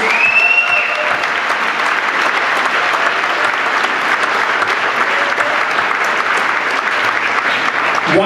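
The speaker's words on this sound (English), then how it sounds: "a nice huge round of applause for all of our senior student athletes." A loud, sustained round of applause from the crowd at a high school senior athletic awards banquet honoring senior student athletes, even and unbroken clapping throughout with no talking on top.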